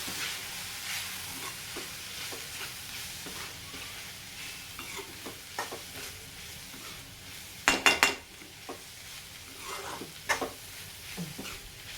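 Capsicum curry with chilli powder is stirred in a pan: a low sizzle runs under irregular scrapes and metal spoon knocks, with a loud cluster of clanks midway and scattered taps after, no talking.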